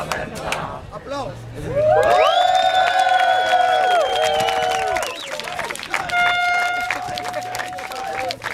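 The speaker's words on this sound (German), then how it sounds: "Applaus" A crowd at a Christmas show on Saint Nicholas evening with a Santa Claus act cheers, whoops and claps. The noise swells loudly and then eases, with bright shouts and children's voices mixed through it.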